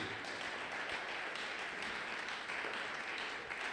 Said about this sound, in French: Est-ce que tu peux acclamer très fort pour la gloire de Jésus?